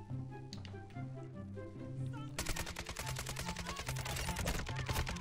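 Gunfire from a weapon in the video game Call of Duty Modern Warfare II at a firing range: after a tonal musical stretch, a dense, loud burst of rapid automatic shots rings out continuously to the end.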